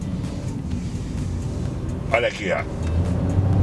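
A Chevrolet Onix Plus with a 1.0 turbo engine picks up speed, its low engine rumble building toward the end under a voice, with a short squeak partway through.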